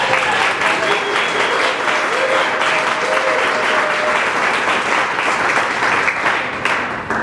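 Loud, steady applause from a hall audience honoring an inductee at the Boulder Sports Hall of Fame ceremony, sustained dense clapping filling the room with no break.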